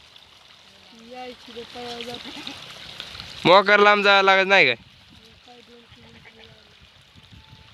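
Water rushes steadily along an irrigation channel in the background while people talk over it, interrupted midway by a loud, drawn-out bleating cry of a sheep.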